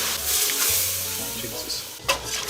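Roux for macaroni and cheese toasts in a pan with a close, even sizzle and soft stirring scrapes, followed by a brief louder clack near the end.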